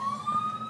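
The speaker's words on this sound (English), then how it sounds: "Hold on, John, we got an ambulance here." A passing ambulance siren wails as one steady high tone, fairly loud, over a low traffic rumble, with no voices over it.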